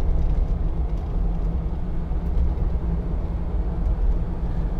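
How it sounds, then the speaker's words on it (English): Steady low rumble of tyre and road noise inside a 2013 Land Rover Defender 90 2.2 TD hard top on cross-contact tyres, driving a rough, poor road; continuous and moderately loud, with no talk. "You get a bit of tyre noise."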